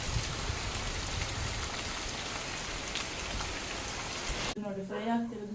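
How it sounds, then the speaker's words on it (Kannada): Steady light rain falling in a village in the afternoon, a soft continuous hiss of drops on surfaces; near the end it cuts off abruptly and a voice begins talking. "ಇವತ್ತು ಮಳೆ ಬರ್ತಾ ಇದೆ"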